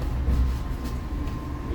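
Passenger train cars roll along the tracks with a steady, dense low rumble and hiss heard from inside, continuous and fairly loud with no talk.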